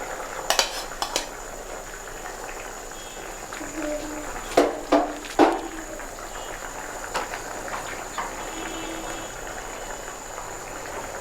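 Pieces of shol fish go into a cauliflower curry cooking in a pan, a low steady sizzle broken by a few sharp clatters and scrapes of a utensil against the pan.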